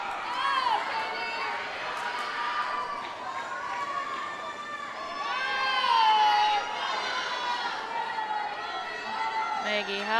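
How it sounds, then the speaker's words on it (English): Spectators at a girls swim and dive meet between Moorhead and West Fargo, a dense, echoing indoor crowd roar of shouts and cheers swelling and fading steadily throughout. "Crowd is chanting Moorhead relay."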